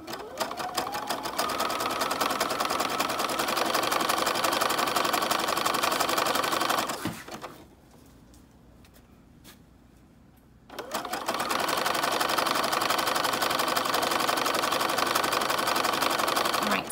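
A sewing machine stitching seam tape onto a skirt runs in a fast, steady whir, pauses for a few seconds, then resumes, close and loud with a voice talking underneath.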